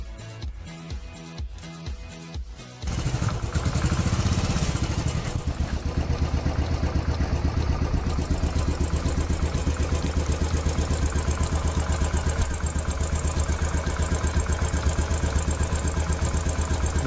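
A Royal Enfield Classic 500 single-cylinder motorcycle starts after a few cranking pulses, then settles into a loud, steady, close idle with a rapid even thump and mechanical clatter that continues unchanged to the end.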